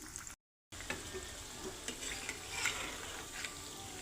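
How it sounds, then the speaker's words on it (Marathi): Wheat flour methi mathri deep-frying in oil over a medium gas flame, giving a steady close sizzle with soft bubbling and occasional stirring clicks, briefly cut out near the start. "हलवत ह्याला क्रिस्पी होईस्तोवर आपण याला तळून घेणार आहोत."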